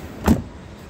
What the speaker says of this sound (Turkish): Kapıyı kapatıyoruz.